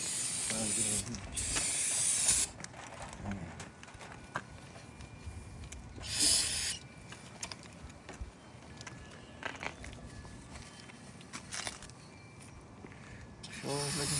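Water spray blasting a 383 engine block clean, loud hissing bursts that start and stop repeatedly, with quieter rubbing and dripping between them and people talking now and then.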